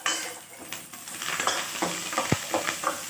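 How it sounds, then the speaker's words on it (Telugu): Onions, garlic and curry leaves sizzle steadily in a pan while a spoon scrapes and stirs through them in quick strokes, close up with no talking. "ఆనియన్స్ వేగిపోయాక వెల్లుల్లిపాయలు, కరివేపాకు కూడా వేసుకుందాం."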